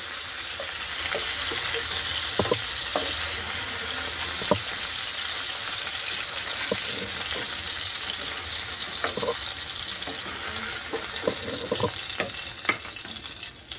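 Hilsa fish pieces turn in hot oil in a pan, a loud, continuous sizzle with a steady frying hiss and occasional sharp clicks and spatters of the spatula being flipped.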